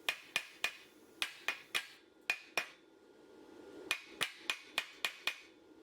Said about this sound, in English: I'll chip off the slag and examine the welds